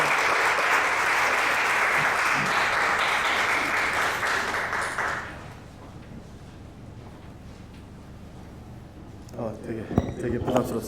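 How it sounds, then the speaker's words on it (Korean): A church congregation gives loud, dense applause to welcome a speaker at an autumn worship event, lasting about five seconds before dropping to quiet room noise, then a few faint sounds and a voice near the end. "이 시간 나오실 때 큰 박수로 환영하시면서 할렐루야 하겠습니다"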